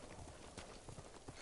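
Horse hooves clip-clopping in a quick, steady rhythm as a rider travels on horseback in the video game Ghost of Tsushima, quiet and close with no other sounds over them.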